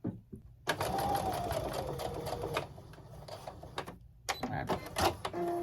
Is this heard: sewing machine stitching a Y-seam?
yes